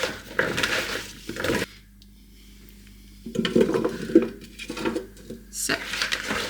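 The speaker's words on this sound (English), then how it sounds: "a drizzle of olive oil, and then roll up your sleeves, get your hands in and give it a good mix" Chopped vegetables for an air fryer Christmas dinner squish and rustle as hands toss them with a drizzle of olive oil, in soft close bursts broken by a short quiet pause.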